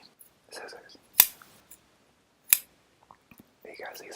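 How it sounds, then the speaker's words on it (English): Scissors give two crisp, close snips in a quiet ASMR setting, spaced about a second apart, with soft whispering and faint handling noises around them. "Scissors."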